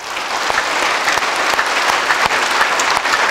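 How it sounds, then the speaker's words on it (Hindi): A large crowd standing at a yoga ashram inauguration claps hard for construction workers, a loud, dense and continuous wash of clapping with scattered sharper claps standing out. "जितना आप में दम है उतने दम के साथ आप इनके लिए तालियां बजाओ।"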